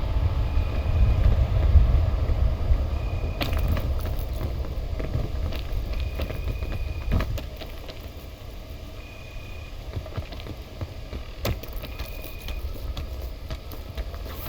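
Steady wind blows across the microphone outdoors, with a strong low rumble that eases partway through, plus scattered crackles and brief knocks.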